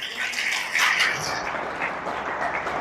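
Applause from a devotional gathering for devotees, a dense wash of many hands clapping together, steady and moderately loud for a few seconds before thinning slightly.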